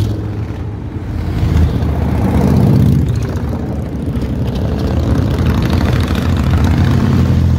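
A continuous heavy engine roar swells and fades as many motorcycles rumble past nearby, loud and sustained with no voices.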